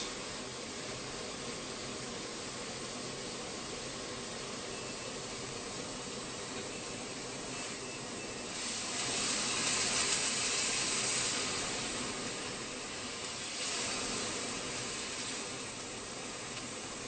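Salmon fillet searing in a hot frying pan for a teriyaki dish, a steady broad sizzle held for many seconds, swelling briefly louder partway through.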